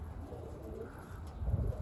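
Soft, low cooing from a Mardin pigeon, faint and close, murmuring over quiet background noise.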